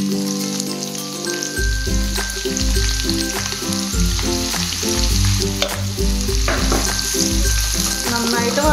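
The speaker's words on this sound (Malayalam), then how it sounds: "എണ്ണ ചൂടായിട്ടുണ്ട് ഞാൻ ആദ്യം സവാള ഇടണം" Onions drop into hot oil and fry with a strong, steady sizzle for a vegetable Maggi noodle dish, a close crackling hiss beginning abruptly and running throughout beneath background music.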